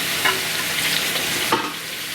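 Cucumber chutney ingredients cook in hot oil with turmeric in a pan, giving a steady sizzle and frying hiss with a couple of stirring scrapes, close up and with no voices.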